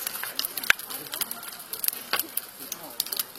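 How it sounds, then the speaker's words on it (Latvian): A large bonfire at an outdoor summer solstice celebration in Turaida, Latvia, crackling and popping with sharp irregular snaps close by while a voice talks over it. "palīdzējāt tik dīžani, varani, ugunskuru senčiem sakurināt"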